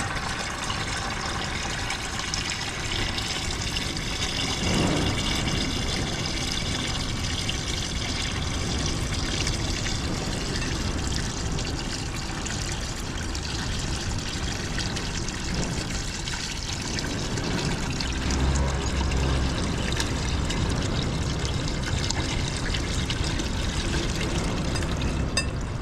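Water drains steadily out of the rear end housing of a John Deere B tractor, a continuous close splashing trickle and pour that holds without pause, with no talk over it.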